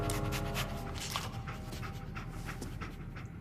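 A dog companion in Fallout 4 pants steadily and rapidly up close, with quick rhythmic breaths running through the whole stretch and no speech over them.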